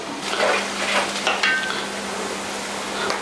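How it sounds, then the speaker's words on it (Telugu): Sliced onions frying in a pan for a keema dish, a steady soft sizzle with faint scraping and stirring, close and continuous and with no talk. "కట్ చేసుకున్న ఉల్లిపాయ కూడా వేసేసుకొని మంచిగా ఉల్లిపాయ వేగనివ్వాలండి"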